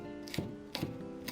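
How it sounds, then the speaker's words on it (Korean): A Cheongyang chili pepper being cut for mapo tofu in a home kitchen: three evenly spaced, sharp snipping cuts over a steady low background hum. "마파두부에 넣을 청양고추 1개 잘라주세요."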